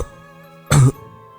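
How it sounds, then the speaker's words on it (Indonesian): A single short, harsh cough, close and sudden, over a faint sustained musical drone. "suara batuk itu muncul lagi"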